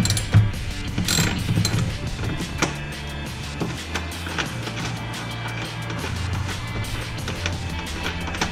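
Bolts being loosened by hand tool while removing the top of a Saturn Sky roadster, close steady ratcheting clicks and grinding mechanical rattle with no talking.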